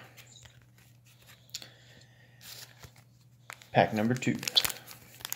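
A Mortal Kombat trading card pack from 2021 is torn open by hand: a short, close, crinkly ripping of foil wrapper follows a moment of quiet talk.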